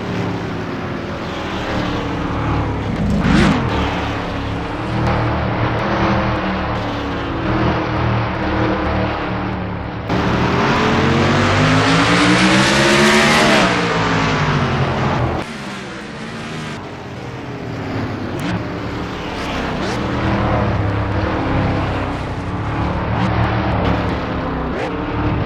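Stock-style race cars roar around the short oval track at Bowman Gray Stadium during a Clash exhibition race, engines swelling and fading as packs pass, with an announcer talking over the loud, continuous motor noise.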